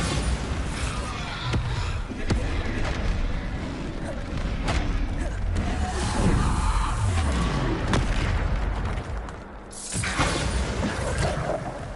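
Bombarda spell explosions in a Hogwarts wizard duel game, repeated heavy booms and sharp blasts mixed with clanks and impacts across a busy fight, loud and close, with a voice speaking at times.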